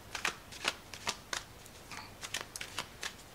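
A deck of tarot cards being shuffled by hand, a string of crisp riffling bursts in an uneven rhythm, close and clear, with no talking.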